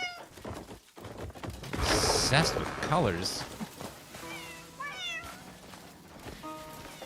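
Several cats meow in a peaceful little town in Crimson Desert, rising and falling cries scattered across the clip, some close and loud, with a person talking over part of it.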